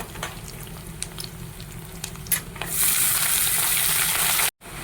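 Chopped flat beans go into a hot pan and the frying swells into a loud, constant sizzle after a quieter start of stirring and light clatter, cut by a brief dropout near the end.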